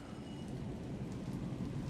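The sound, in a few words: rain in the video game Alan Wake 2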